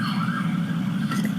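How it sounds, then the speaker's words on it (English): Sirens from emergency vehicles outside a courtroom blare loudly and continuously, with a sliding wail over a low rumbling drone. "Let's wait for the sirens to pass."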